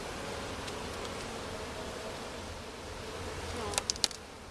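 Honey bees hum in a steady, close drone while a hive is split in the deep south, with a few sharp clicks and knocks near the end.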